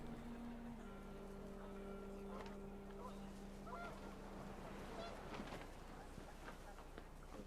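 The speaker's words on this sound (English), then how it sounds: "panicked geese appeared and quickly went" Honking geese in What Remains of Edith Finch, faint and somewhat distant, several overlapping calls over steady windy background noise, with a voice speaking briefly underneath.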